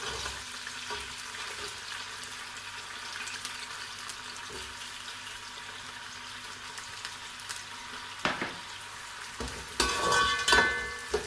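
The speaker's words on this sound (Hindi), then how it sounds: "तेल गर्म हो गया। अब हम इसमें प्याज डाल देते हैं।" Onions hit hot oil in a pan for spicy chicken biryani: a faint hiss with light stirring knocks gives way near the end to a louder burst of crackling sizzle.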